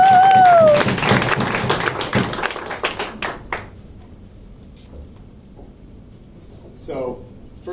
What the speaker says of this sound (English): Please give a warm round of applause for our first storyteller